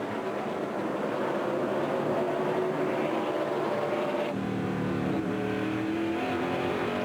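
A NASCAR stock car engine at the 2003 Virginia 500 at Martinsville drones loudly and steadily, the pitch easing and shifting under delicate throttle control with no pause.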